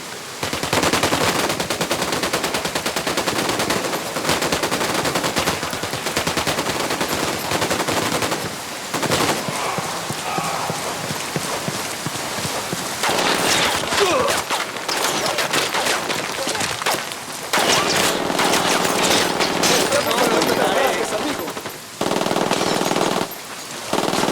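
Game gunfire from Ghost Recon Wildlands: sustained, loud machine-gun bursts rattle almost continuously, with brief pauses between volleys.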